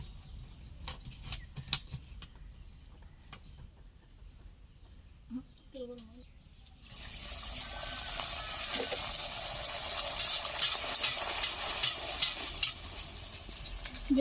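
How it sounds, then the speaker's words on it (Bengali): Semolina luchi deep-frying in hot oil for a Durga Puja meal: after a quiet start with a few light clinks, a steady, bright sizzle rises abruptly midway and keeps hissing loudly to the end. "এখন এগুলো ভেজে নিচ্ছি"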